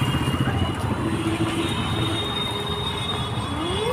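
A large train passing close by, steady rolling rumble of the wagons with a high, drawn-out metallic wheel squeal running through it, loud and continuous, with faint talk in the background.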